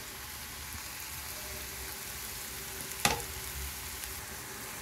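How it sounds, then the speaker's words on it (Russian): Steady soft sizzling of sliced champignon mushrooms and onion frying in a pan, with one brief clink of a utensil midway; no talking. "Нарезали шампиньоны, добавляем их к нашему луку."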